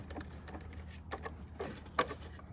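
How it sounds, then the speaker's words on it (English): A 1/4-inch ratchet with a deep 10mm socket works loose the OEM battery terminal nuts on an FZJ80 Land Cruiser, giving quiet, close clicks and light metallic ticks in short irregular bursts, with a sharper click near the end. "I'm just going to loosen those with my 1/4" ratchet and a deep 10mm socket."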